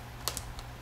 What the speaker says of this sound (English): fancy keyboard. It's a lighted keyboard, RGB